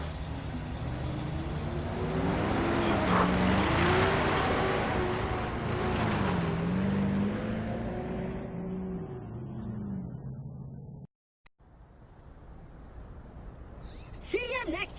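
Bus in the video game Borderlands pulling away, its engine rumbling with fluctuating revs and slowly fading out, with a gruff voice talking over it before a sudden cut to quieter game ambience.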